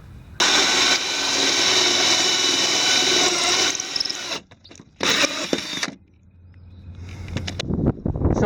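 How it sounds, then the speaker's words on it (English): A 2-inch hole saw bores from outside through a roughly 3/8-inch boat hull, a loud steady power-tool whine for about four seconds, then short bursts and stops before a rougher, uneven grinding resumes. "we'll complete the process using a 2-inch hole saw and sawing from the"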